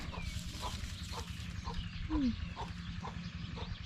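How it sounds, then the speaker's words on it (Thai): Chickens on a farm give soft, faint clucks against a low steady background hum, with one short louder call near the middle. "ไก่นี่"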